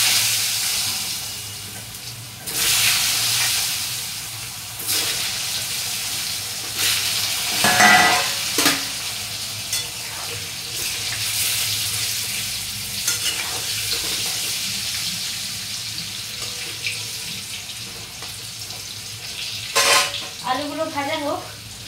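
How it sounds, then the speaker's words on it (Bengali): Potato pieces sizzle in hot oil with a little turmeric, a steady frying hiss broken by several scraping stirs of the spatula against the pan, close and fairly loud. "দিয়ে আমি আলুগুলো ভাজতে দিয়ে দেবো।"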